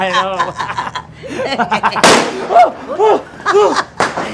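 A firework rocket goes off with a sharp, loud bang and crackle during the Fallas festival in Valencia, landing amid close conversation and laughter, with talk continuing over the fading report.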